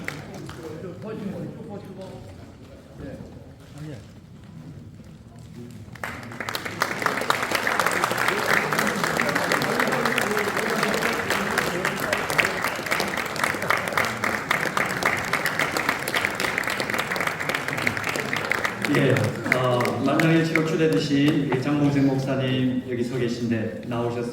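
Sustained, dense applause from an assembly crowd welcoming the new vice moderator at a Presbyterian Church of Korea Seoul Presbytery general meeting. It follows a stretch of speech and runs loud and steady to the end.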